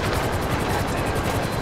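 A helicopter in the video game GTA 5 whirs with a steady, loud, pulsing rotor drone that runs unbroken throughout.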